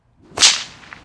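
A single sharp whip crack thrown with the snake killer technique, aimed at a target on the ground, snaps loudly with a bright burst and a brief fading tail, alone.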